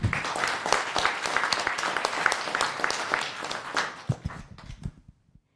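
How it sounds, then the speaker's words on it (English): Another round of applause at a town council meeting, steady dense clapping from a room of people that carries on for about four seconds, then thins out to a few scattered claps and trails off into quiet. "And a gift on the way out with another round of applause."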